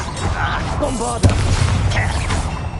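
A Bombarda blasting spell goes off in Hogwarts Legacy: one sharp, close burst midway that trails into a low rumbling roar, with a voice and game sounds before it.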